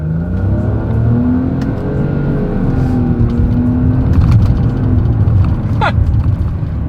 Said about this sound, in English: let's see how quickly we can get this one here up to speed